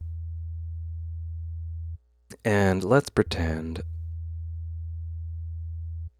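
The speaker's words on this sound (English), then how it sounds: "So there is our sine wave" A steady low sine tone hums alone, breaks off while a voice speaks briefly, then returns unchanged and continues evenly to the end.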